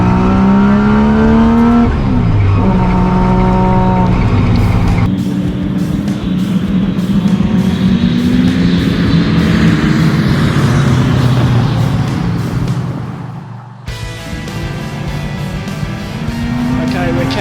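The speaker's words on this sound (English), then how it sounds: "I've never been inside a GT6 before. Listen to this thing" Triumph GT6 race car engine at full throttle during an all-Triumph race, heard from inside the car: a loud, raspy roar climbing through the revs, a gear change, then another hard pull with a brief dip near the end.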